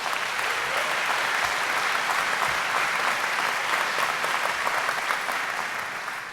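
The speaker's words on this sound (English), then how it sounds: "Give them a big round of applause, please." Sustained applause from a large audience at a university commencement ceremony for business and behavioral and health sciences graduates, a dense, steady wash of clapping that fills the hall throughout and tapers slightly at the end.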